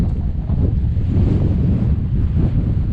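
Strong, steady wind on a ridge roaring and buffeting a microphone, with low rumbling gusts surging throughout and no voices.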